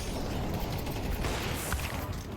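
Gunfire in Counter-Strike 2 spraying through a smoke grenade, a dense, continuous rattle of shots over busy game noise, steady and fairly loud with no talking.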